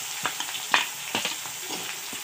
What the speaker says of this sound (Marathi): छानपैकी लाल होईपर्यंत आपल्याला हे सर्व साहित्य तळून घेणार आहोत